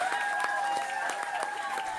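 Crowd applause greets Anne Davis, the new Plaid Cymru MP, arriving in Westminster: steady clapping from a gathered group, fairly close, with a sustained tone and voices mixed in.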